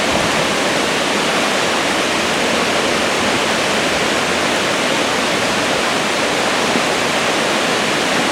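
Water rushing over the Lake Hopatcong dam, a loud, steady broadband roar that continues unbroken without any pauses or changes.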